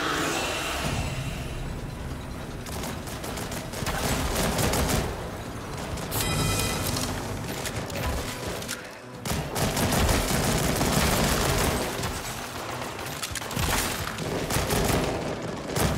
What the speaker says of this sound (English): when they come back to life, they just automatically start shooting